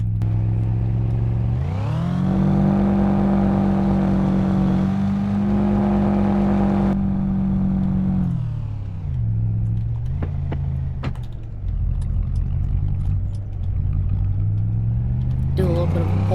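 A Pontiac Trans Am engine revs up and pulls away, a steady loud drone rising in pitch, easing off, then building again as the car drives on a road, with talk over it.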